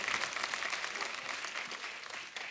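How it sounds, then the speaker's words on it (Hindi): Loud, steady applause from a television studio audience, dense clapping continuing throughout without pause. "जोरदार तालियां हो जाए"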